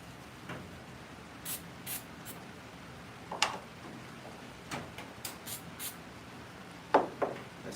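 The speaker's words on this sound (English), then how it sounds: "Spray the activator on there." Activator is sprayed from an aerosol can in several short hissing bursts, close and fairly quiet, with brief pauses between them and no talking.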